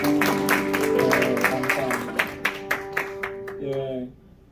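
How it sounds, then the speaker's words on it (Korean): Congregation in a church clapping in welcome of returning members, a brief burst of applause that thins to a few scattered claps while a singing or speaking voice carries over it. "우리 한번 박수 한번 할까요?"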